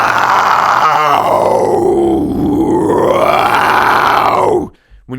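A deep, guttural death-metal growl delivered as a vocal demonstration, one sustained, loud, rough roar lasting several seconds that rises and falls in pitch before cutting off abruptly.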